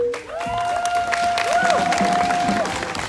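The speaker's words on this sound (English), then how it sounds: "Please give a real round of applause for my brother" Crowd applause and cheering at an outdoor street protest in Sunbury, Pennsylvania, a steady wash of clapping and voices lasting a few seconds, with tonal whistles or feedback-like lines running through it.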